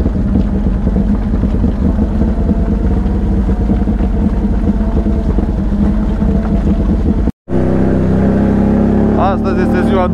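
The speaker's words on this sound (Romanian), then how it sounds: "Noroc cu frâna de motor, că altfel, la revedere." A car's engine braking down a snowy mountain road at Siriu, a loud continuous low drone with road and wind rumble, a brief cut near the end; people talk over it.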